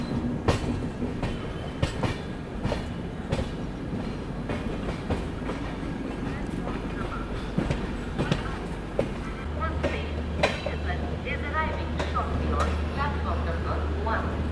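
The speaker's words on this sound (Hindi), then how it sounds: "यहाँ पर अभी कुछ समय में अपनी हरिप्रिया एक्सप्रेस पहुँचने वाली है गदग जंक्शन रेलवे स्टेशन पर।" The Haripriya Express rolls into Gadag Junction station with a steady loud rumble and rhythmic wheel clatter, a low engine drone joining near the end while a voice talks over it.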